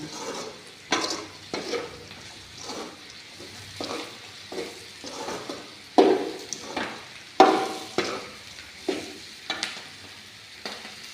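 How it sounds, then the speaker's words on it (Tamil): A spoon stirs spice powder around a hot frying pan in a home kitchen, giving repeated scraping strokes in a steady rhythm over a soft sizzle. "இந்த பொடியெலாம் போட்டதுக்கப்புறமா கொஞ்ச நேரம் கிளறிக்கிட்டே இருக்கலாம்"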